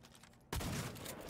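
Gunfire in Cyberpunk 2077 erupts abruptly after a quiet moment and keeps going as a loud, sustained rattle of shots.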